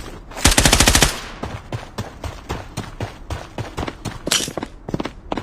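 Gunfire in the shooter game Bloodstrike: a loud rapid automatic burst up front, then a string of sharper single and short bursts of shots mixed with movement sounds.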